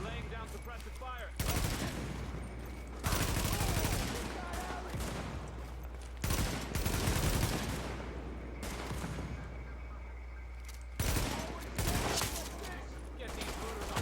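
Hostile fire in The Division rattles in repeated loud bursts of automatic gunfire and single shots, broken by quieter gaps where a voice speaks under the game ambience.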